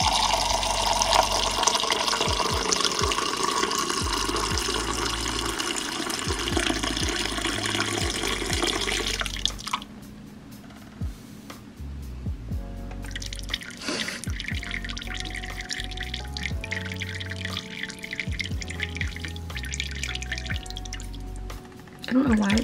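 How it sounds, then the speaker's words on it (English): Melted Makesy Coco Apricot Creme candle wax pours unevenly from a heavy pouring pitcher, a steady liquid stream that stops midway and then gives way to quieter dripping and small clinks, with talking in the background. "So, that didn't pour out as evenly as it normally does"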